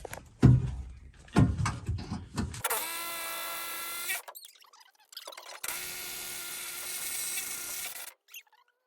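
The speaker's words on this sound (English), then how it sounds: "come back with the smaller diameter bit and drill a through hole" A drill with a smaller-diameter bit boring a through hole during a box truck build: a few sharp knocks, then two sustained, close motor whines separated by a brief pause, ending with a short click.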